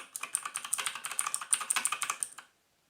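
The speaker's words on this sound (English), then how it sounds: "let's see what happens if we try to type" Typing on a GranVela MechanicalEagle Z-77 mechanical gaming keyboard with blue switches, giving a steady run of crisp, loud clicky keystrokes up close for over two seconds before stopping into silence.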